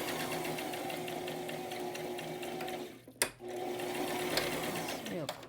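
A sewing machine stitches fabric along a marked line, a close, steady whirring hum that pauses briefly before starting again, while a person talks over it.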